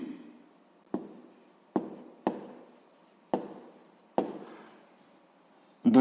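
Pen or chalk writing out a sixth-grade math exercise solution, six or so sharp strokes and taps, each followed by a short scratchy trail, fairly close and quiet with no talking.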